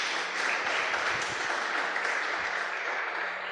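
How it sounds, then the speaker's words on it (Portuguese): A church congregation applauds steadily, a broad dense wash of clapping that holds at an even level throughout. "Se você crê, dê um aplauso para o Senhor"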